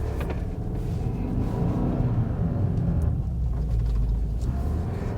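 A 2024 Subaru WRX driving over snow and ice, a steady close cabin rumble of engine and tires with mechanical whir and slight rises in revs, continuous and unbroken, no talk.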